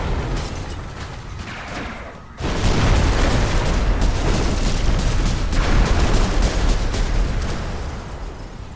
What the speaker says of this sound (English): The explosion got to us on that one.